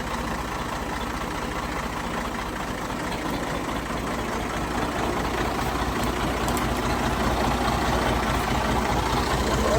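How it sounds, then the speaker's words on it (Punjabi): A tractor engine idles steadily outdoors as rain begins, giving a low, continuous rumble at moderate distance that grows slightly louder toward the end, with no talking. "ਆਪਾਂ ਟਰੈਕਟਰ ਕੱਢ ਲਈਏ"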